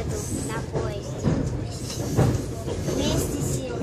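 Passenger train moving on rails, heard from inside a carriage: a steady rumbling roll with faint rhythmic rail clatter and occasional higher metallic whine, fairly loud and continuous, with people talking over it.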